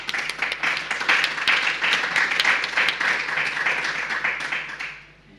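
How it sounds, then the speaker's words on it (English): Steady audience applause at a conference panel on renewable energy and decarbonization, a dense even wash of many hands that holds for several seconds and then fades away. "Please welcome our speakers with a round of applause before we begin."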